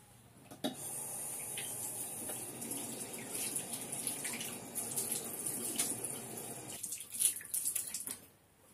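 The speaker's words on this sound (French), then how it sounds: "Et je vais mouiller mon visage une première fois." Tap water runs steadily into a sink for about eight seconds as a face is wetted during an evening skincare routine, a close, continuous splashing rush that stops near the end, with no voices.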